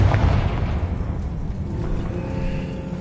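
A Confringo fire spell blasting in Hogwarts Legacy, a loud booming burst at the start that rolls into a sustained rumbling roar, with game music and ambience humming underneath.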